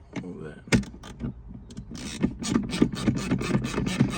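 A 1/4-inch ratchet with an extension backs out Torx screws inside a 2019-2025 Chevrolet Silverado center console, giving close, quick clicking runs that quicken and steady toward the end.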